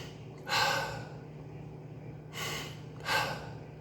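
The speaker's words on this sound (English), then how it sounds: "Taking deep breaths." A person takes three deep breaths close to the microphone, each a soft, airy gasping inhale or exhale, with pauses between them over a faint low hum.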